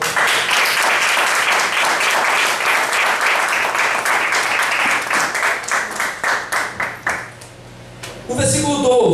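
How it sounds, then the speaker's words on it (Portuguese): A church congregation claps together in a loud, fairly rhythmic burst that gradually thins into scattered claps and fades, before a voice comes back at the end. "Podemos aplaudir o Senhor?"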